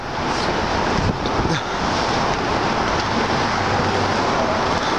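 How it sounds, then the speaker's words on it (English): Gusty wind in Boston buffets the microphone with a constant low roar and rushing noise, loud and unbroken throughout. "A windy day in Boston here"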